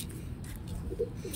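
A soft, low pigeon coo rises briefly over a steady background murmur, close by and fairly quiet.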